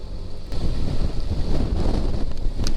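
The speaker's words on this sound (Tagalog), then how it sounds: "Malakas ang hangin eh" Strong wind on a river boat on the Agos River, Infanta, Quezon, a steady loud roar and buffeting rumble with gusts swelling, mixed with water noise and no voices.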